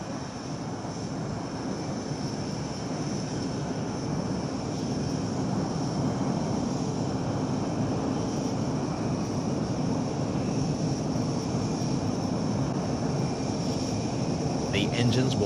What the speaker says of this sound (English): The engines will power down and the canopies will open simultaneously on all 6 aircraft.